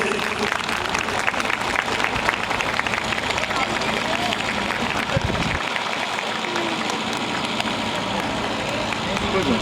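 A congregation claps continuously at a Christmas celebration, a dense, loud patter of many hands with voices talking over it.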